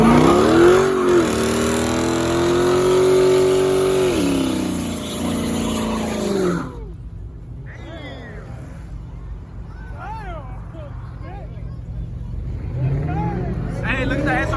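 A Honda car at a street car takeover revs hard, its loud engine note rising and falling through the first half, then dropping to a lower idle rumble as a crowd talks and shouts nearby.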